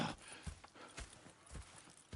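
Horse hooves clip-clop in the video game Red Dead Redemption 2: a quiet, steady walking rhythm of about five or six hoof strikes over two seconds, alone without speech.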